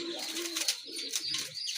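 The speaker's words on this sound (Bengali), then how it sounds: "এক জোড়া রাজগোল্লা কবুতর" A pair of Rajgolla pigeons cooing at close range, soft low throaty coos repeated in short rolling phrases, with faint chirps and background rustle.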